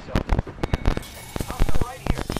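Video game gunfire comes as rapid, sharp cracking bursts in uneven clusters, loud and close, with talk mixed in.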